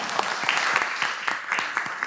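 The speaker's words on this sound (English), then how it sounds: "That deserves another clap." A short burst of applause from the room at a college board of trustees meeting, dense overlapping claps at close range, with a faint voice underneath.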